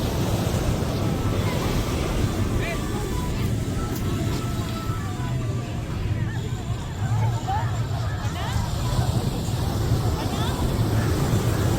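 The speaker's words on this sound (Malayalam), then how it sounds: "ശംഖുമുഖം ബീച്ചിലൂടെ ഒന്ന് നടന്നേക്കാമെന്ന് കരുതി നടക്കുവാണ്." Sea waves roll and wash continuously onto Shankhumugham beach in Thiruvananthapuram, a loud steady surf mixed with wind buffeting the microphone and a faint babble of distant voices.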